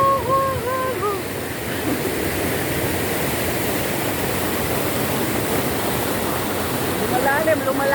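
Waterfall at Lettac Norte, Santol, La Union, roaring as a steady, loud wash of rushing water throughout, with brief voices and birdlike calls rising over the torrent near the start and end.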